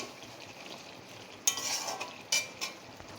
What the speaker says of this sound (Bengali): উপর থেকে একটু সর্ষের তেল দিয়ে দিলাম, দিয়ে এটা একটু মিশিয়ে নেব